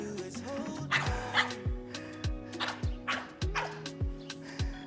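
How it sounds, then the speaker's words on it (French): A small dog barks repeatedly as it passes by, giving a steady run of sharp yips at a moderate distance over soft background music. "Encore un petit chien qui passe."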